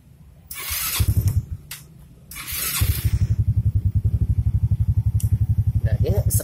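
Motorcycle fitted with an aftermarket starter motor being started: a whirring starter burst and a pause, then a second crank that catches into a steady, rapid, close idle putter, with a voice speaking briefly near the end.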